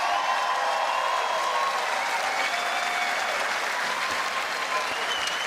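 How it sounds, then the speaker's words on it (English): A large crowd claps steadily and loudly at a darts world championship final for two women players, a dense, continuous applause filling the hall with a faint voice beneath. "May we have another round of applause for the 2 women who lit up the stage."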